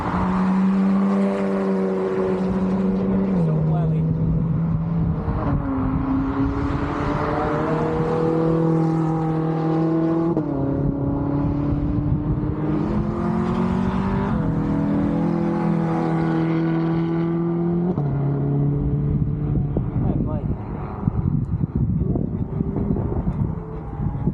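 A Ford Mustang's engine roars and revs hard on a race track, climbing in pitch and shifting up through gears again and again, loud and close, with wind buffeting.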